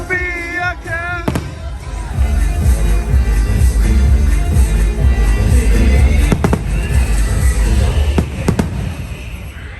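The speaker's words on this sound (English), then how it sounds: "we're getting ready to watch the fireworks" Fireworks at Disneyland, with a rapid series of loud booms and crackling bursts over a murmuring outdoor crowd, preceded by a brief tonal sound at the start.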